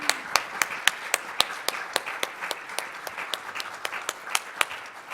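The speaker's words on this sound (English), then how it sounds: "Can we give them one more round of applause?" A round of applause at an education summit: a soft crowd patter underneath, with loud, sharp claps from one nearby person landing in a quick steady rhythm.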